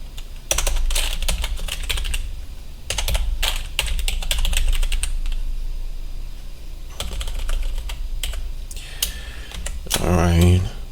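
Rapid, continuous clicking of keys on a computer keyboard as an admin username is entered, in bursts with short pauses and a heavier clatter near the end, close and clear, while a person talks throughout.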